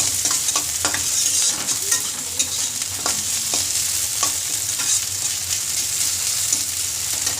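Onions and tomatoes fry in a pan with a steady, bright sizzle, and soft stirring scrapes recur throughout.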